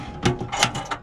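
A drawer under a bunk aboard a navy ship slides open or shut with a quick series of wooden rattles and thumps, close and moderately loud.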